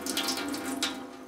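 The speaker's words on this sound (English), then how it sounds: "I just put a sink in last year, so I have running water" Water runs steadily from a tap into a sink newly installed in a cabin, a continuous close hiss and splash with no talking.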